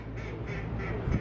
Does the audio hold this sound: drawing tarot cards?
no